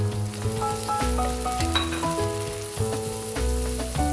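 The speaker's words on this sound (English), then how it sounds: "Now let's fry our onions, garlic," Onions, garlic and tomatoes sizzle and crackle steadily in a hot pan, close up, with occasional stirring scrapes and no talking.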